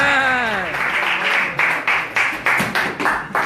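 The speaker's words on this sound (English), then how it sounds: "Let's give Connie and Joseph a big round of applause" At a Sunday talk in ISKCON Newcastle's temple, an audience claps for Connie and Joseph. A voice speaks briefly at first, then close, rhythmic claps follow in a steady beat.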